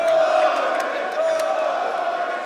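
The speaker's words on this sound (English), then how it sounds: "And you can hear the crowd." An esports arena crowd at the Atlanta Major semifinals gives a loud, sustained roar of cheering that swells and settles over a couple of seconds.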